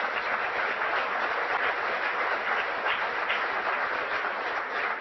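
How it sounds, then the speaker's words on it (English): A steady, dense round of audience applause at a live event at a Blain's Farm and Fleet store in Janesville, sustained and even for several seconds with little talk. "Give yourselves a round of applause, folks."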